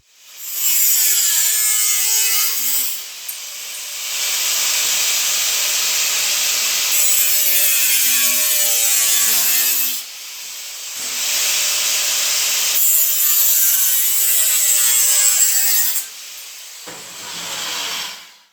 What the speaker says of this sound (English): I'm going to take the grinder now, cut these 4 corners out